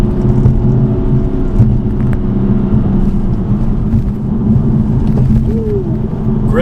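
A BMW F82 M4 on Nitto NT555 G2 tires rounding a blind curve at about 60 mph, with a steady, loud engine drone and road rumble heard from inside the cabin, no talking over it.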